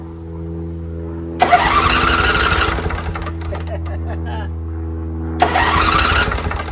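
A Briggs V-twin engine on a Toro Z-Master mower cranks over in two separate bursts, each a loud, rapid starter churn of a second or so that does not catch, with a low steady hum in between.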